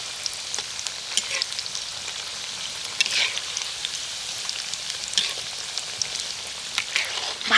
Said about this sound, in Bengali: এবার এগুলোকে এইভাবে উল্টে পাল্টে ভালো করে কিন্তু ভেজে নিতে হবে একদম মুচমুচে করে